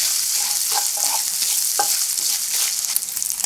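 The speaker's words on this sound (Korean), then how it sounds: "달궈주면 목살을 넣고 골고루 볶아주세요" Pork neck stir-fried in a hot oiled pan sizzles as a steady, loud hiss, with scraping stirring strokes breaking through now and then; no talking.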